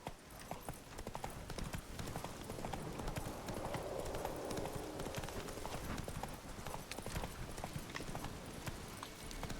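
Roach, Geralt's horse in The Witcher 3: Wild Hunt, clip-clops along in a steady trotting rhythm of hooves throughout, fairly close with a soft outdoor ambience behind.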